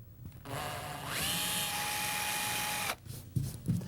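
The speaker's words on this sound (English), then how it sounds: "Select a drill bit that's the same diameter as the plastic anchor, and then go ahead and bore through the wall board." An electric drill spins up and bores through wall board, a steady high whine lasting about two and a half seconds before stopping, followed by faint handling noises.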